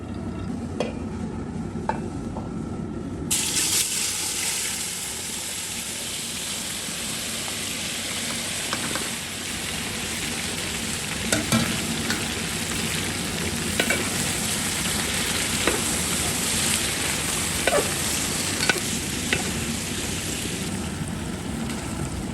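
Oil sizzles steadily in a pan while a brinjal curry is cooked at a street food stall, a continuous crackling hiss with occasional scraping stirs, no voices.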